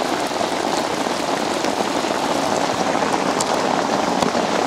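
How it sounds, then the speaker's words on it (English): Heavy evening rain pouring down outdoors beside a carp fishing lake, a dense, constant hiss of drops hitting surfaces close by, with scattered sharper splats and no voices. "It is absolutely raining cats and dogs out here."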